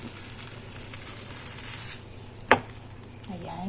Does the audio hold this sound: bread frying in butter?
yes